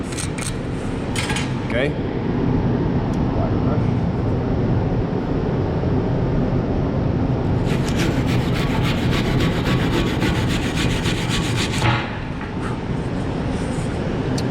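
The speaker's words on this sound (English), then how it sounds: "Just by scraping it, and pushing on it a little bit, this slag comes right off." Slag being scraped and pushed off a 6010 flat fillet weld, a steady rough scraping and rubbing that runs through the clip with bursts of harsher grating, close and loud, with a brief spoken word early on.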